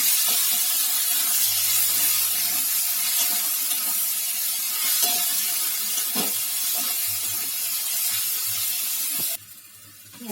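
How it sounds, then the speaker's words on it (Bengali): Chopped onions frying in oil with whole cumin, a loud steady hiss of sizzling oil running close and unbroken before cutting off abruptly near the end. "পেঁয়াজটা বেশ ভাজা হয়ে গেছে।"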